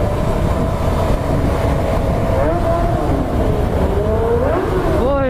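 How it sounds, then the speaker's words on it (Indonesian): A Kawasaki ZX25R motorcycle with an aftermarket exhaust revs inside a tunnel, loud and close, its pitch climbing and falling in repeated rising sweeps near the end over a continuous reverberant roar. "di terowongan cuy kita sedikit geber ya"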